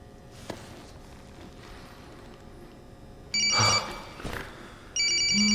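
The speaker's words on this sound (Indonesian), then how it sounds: "Paul mendapatkan telepon di saat berada di ruangan jenazah dari Kevin ini" A telephone rings in a film scene set in a hospital mortuary: two loud, clear bursts of ringing separated by a brief pause, after a quiet stretch.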